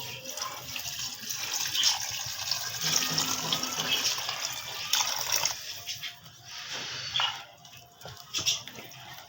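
One kilo of boiled and cooled water is poured into a mixed vegetable pickle, a continuous splashing and gurgling stream that rises and falls, close by, with no talking.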